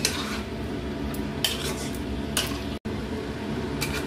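A utensil scrapes and clinks against a pan while marinated chicken is stirred in with onions, with a continuous busy clatter and a soft sizzle underneath.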